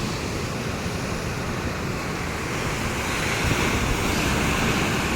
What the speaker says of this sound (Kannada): ಸಮುದ್ರದ ಅಲೆಗಳು ನೋಡಿ